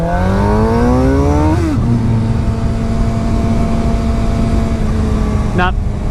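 A black 2016 Suzuki GSX-R 750 L6 motorcycle engine while riding, revving up through a gear, dropping as the throttle eases, then holding a steady loud drone with wind rush before another quick shift.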